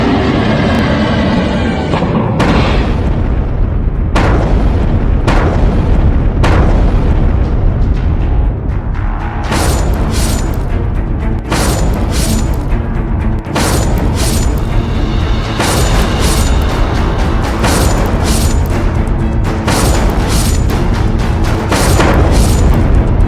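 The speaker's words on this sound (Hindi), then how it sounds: "मिसाइल गिरी, धमाका हुआ और ईरान की टॉप लीडरशिप खत्म।" Missile strike explosions in Iran: a continuous barrage of loud, heavy booms and blasts, one after another for over twenty seconds, with cracking bursts layered over a deep sustained rumble and no talk.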